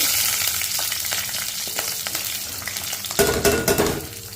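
Chopped onions fry in hot tempering oil with garam masala for a jackfruit seed biryani, a steady loud sizzle with scraping stirs that intensifies near the end.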